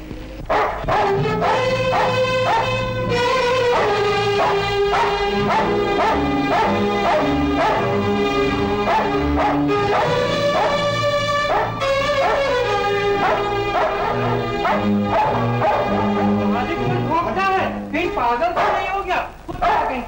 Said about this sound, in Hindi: कुत्ते भी अभी मालिक को नहीं पहचानते